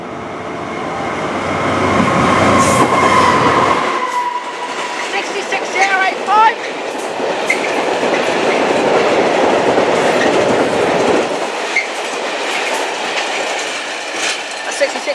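A train passes through Liskeard station on the Cornish main line with a loud, close rumble and rattling wheels, brief squealing and clicks, fading toward the end while people talk faintly nearby.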